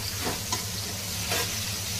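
Spice tempering of asafoetida and turmeric in hot oil sizzles steadily and close, with a faint low hum beneath and a couple of soft stirring swishes.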